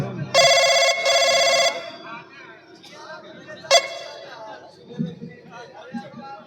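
A telephone bell rings loudly in two long bursts near the start, with a shorter ring later, during a Bhatnosa nautanki folk theatre performance. Voices talk and murmur throughout.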